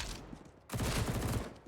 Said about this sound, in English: Get destroyed by Apex's rifle there, the M4.